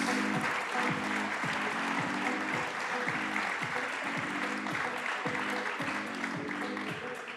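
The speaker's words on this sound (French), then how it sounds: "Oui, vous pouvez les applaudir" Audience applause for guests at a business conference panel, a dense steady wash of clapping from a sizable crowd that holds level throughout and only begins to thin at the very end, with a low rhythmic murmur beneath.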